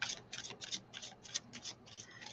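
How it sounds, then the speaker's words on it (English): A deck of cards is shuffled close by, a quick run of soft, crisp riffling bursts in a steady rhythm, quiet and alone. "I love this deck. Just shuffles so good."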